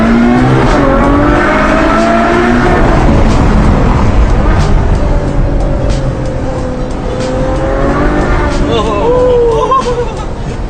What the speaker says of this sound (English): I guess this is gonna be my only time sitting in a moving Bugatti.